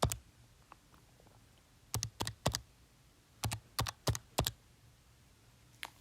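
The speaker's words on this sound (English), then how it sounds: "type this into your calculator" Calculator keys are pressed in short clusters of crisp, close plastic clicks, a few taps then a pause, then several more, over a quiet room hum with no talk.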